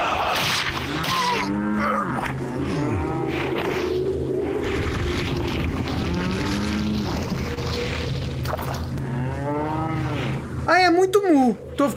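Cattle in the Resident Evil 4 VR video game moo repeatedly in drawn-out, loud calls over a steady game backdrop, with a few sharp thumps near the end.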